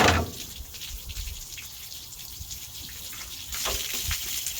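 Coolant gushes from a failed water pump on an LS-swapped Squarebody truck, a steady watery rush near the engine bay with a louder surge toward the end.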